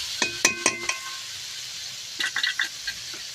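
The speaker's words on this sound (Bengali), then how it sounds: "জল দিয়ে ভালো করে মশলাটা কষিয়ে নেব।" Spice paste stirred and fried in a pan with a little water for Bhola fish oil curry: a few sharp spoon clinks and scrapes up front, then a short cluster of stirring taps over a faint sizzle, fairly close.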